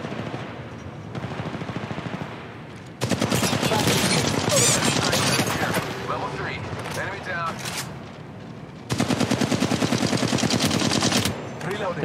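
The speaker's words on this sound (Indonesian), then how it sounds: "itu ada suara tembakan" Rapid automatic gunfire in the video game PUBG rattles in long bursts, loud and close, with a person talking underneath during quieter stretches.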